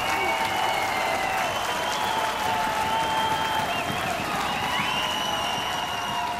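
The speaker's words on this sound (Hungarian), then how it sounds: "szóljon a taps!" Sustained audience applause at a live outdoor concert during the 2019 Kolozsvári Magyar Napok festival in Cluj, a dense steady roar of many hands with cheering, loud and continuous throughout with a sung or held tone above it.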